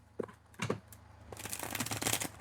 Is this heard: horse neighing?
no